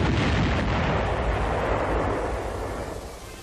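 A T-40 demolition rocket launcher on a tank fires in a 1944 demolition test, a dense rumbling roar of blasts and a long decaying rush, loud and continuous with no voices.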